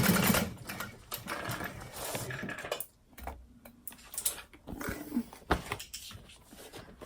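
Sewing machine top stitching a handbag at long stitch length, running in short intermittent bursts with ticking mechanical rhythm and brief pauses between runs, fairly close.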